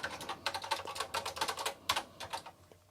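Rapid keystrokes on a vintage Amstrad or TI-99/4A home computer keyboard, a close, quick run of clacky key presses with brief pauses, no voices.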